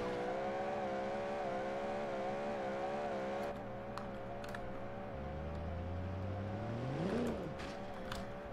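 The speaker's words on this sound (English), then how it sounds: "Now let's just do some burnouts." Engine revs hard in a BeamNG.drive car burnout at Indianapolis Motor Speedway, with damaged, holed tire; steady loud engine drone climbs to a rising rev peak near the end, tire noise blended in.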